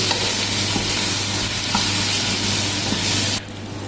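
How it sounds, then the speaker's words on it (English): Ginger garlic paste frying in a pan with cooked onions for a fish curry, a loud, dense, continuous sizzle with a few faint stirring knocks, cutting off abruptly near the end. "So now I am putting this ginger garlic paste."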